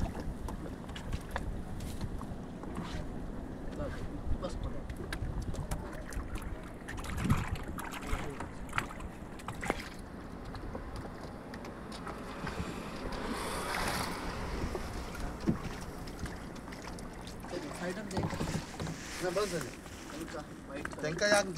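Kayak on the Chivla river at Malvan: a steady wash of water and wind around the boat, with a louder swell near the middle, under people talking.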